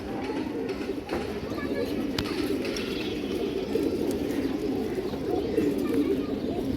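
Domestic pigeons, including Saafchila and other fancy breeds, coo steadily in a busy loft. Someone speaks continuously over the birds.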